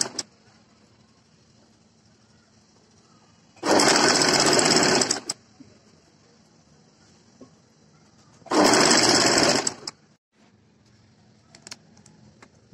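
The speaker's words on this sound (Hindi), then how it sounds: "अब हम इस तरह से अपनी बाजू पर सिलाई लगाएंगे।" Two separate bursts of a sewing machine stitching a kurti sleeve, each lasting over a second, loud and close, with near silence between and a few faint handling clicks afterward.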